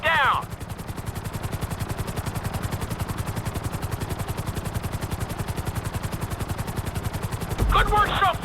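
A helicopter flying at full speed in Grand Theft Auto V, its rotor a rapid, even pulsing throb that runs the whole time, with a voice briefly heard at the start and end.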